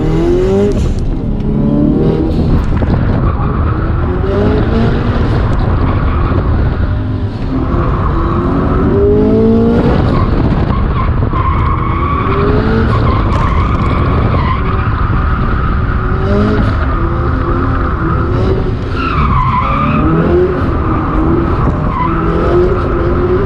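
A turbocharged Toyota FRS on a drifting lap, its engine revving hard and tires squealing and skidding in long repeated bursts, loud and close throughout.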